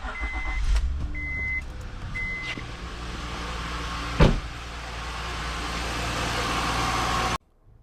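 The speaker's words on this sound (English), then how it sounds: "Let's start off by warming up the car before we dump the fluid." A 2005 Honda Pilot engine idles while warming up, a steady low rumble with a few brief electronic chimes early and a sharp knock midway, running close and continuous before cutting off abruptly.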